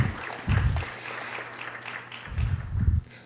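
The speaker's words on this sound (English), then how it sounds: "And I think that deserves a round of applause right" Scattered, fairly quiet applause from an audience at a book event, with a few soft claps and low thumps in bursts rather than a full ovation.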